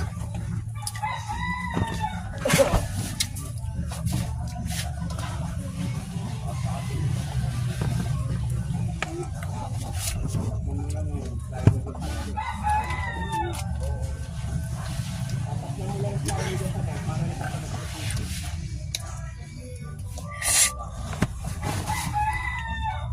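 Chickens and roosters at a backyard coop, with repeated crowing and clucking carrying over a steady low rumble while people talk nearby.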